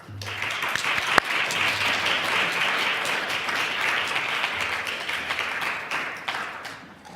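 An audience at an academic symposium gives a sustained round of applause to welcome two speakers, steady dense clapping that holds evenly for several seconds and fades at the end.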